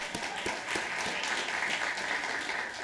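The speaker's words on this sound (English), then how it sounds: "I want you to give yourselves an applause." An awards ceremony audience at a public library breaks into applause, dense continuous clapping from a crowd with a few sharper claps standing out near the start.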